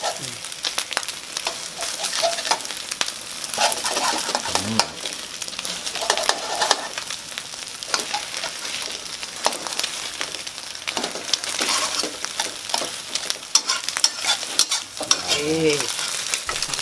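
Egg frying in hot oil in a pan while being stirred, loud continuous close sizzling with scraping stir strokes throughout, with a faint voice briefly heard.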